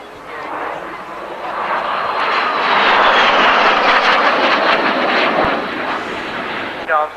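A two-seater propeller airplane drones past overhead, its engine noise swelling to a loud peak and slowly fading, with no talking.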